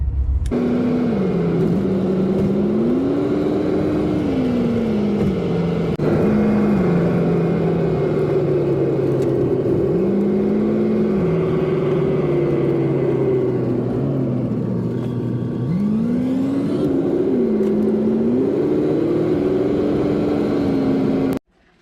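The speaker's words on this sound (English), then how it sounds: "Van is back in motion." A van drives along with its engine whirring steadily, pitch rising and falling through several gear changes, close and continuous until it cuts off abruptly at the end.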